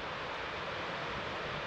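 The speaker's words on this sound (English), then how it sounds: "Now that's a waterfall." Waterfall on a backcountry hiking loop, heard as a steady, dense broadband roar of falling water with no pauses, fairly close and alone without voices.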